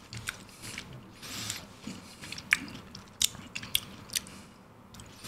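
Someone bites and chews Merino Thai-style chè ice cream with coconut and chewy, crunchy bits, close up, making scattered sharp crunches and clicks over a low, steady chewing texture without speech.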